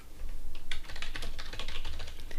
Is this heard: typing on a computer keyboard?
yes